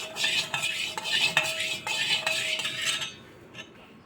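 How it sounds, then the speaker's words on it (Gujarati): Spoon stirring a sugar and oil mixture in a bowl, a rhythmic close scraping and clinking of metal against the bowl that stops near the end, with no voices. "હવે આપણે બધું જ મિક્સ કરી લઈશું જ્યાં સુધી આપણી ખાંડ મેલ્ટ ન થાય ત્યાં સુધી"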